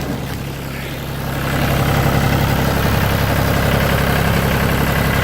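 A John Deere 5400 tractor engine idles close by, a steady, loud diesel rumble that swells slightly after the first second and then holds an even throb.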